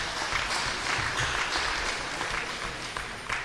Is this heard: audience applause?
yes